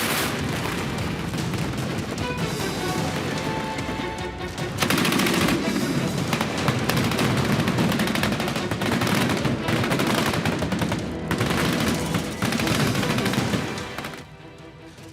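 Indian army cannon and gunfire during a mechanized weapons demonstration: dense, sustained volleys of rapid shots and booms, loud and continuous with brief lulls, fading near the end.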